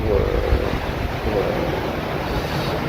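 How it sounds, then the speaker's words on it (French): Calm sea waves wash onto a French beach in the afternoon, a steady broadband surf wash with wind buffeting the microphone and no speech. "les vagues sont calmes"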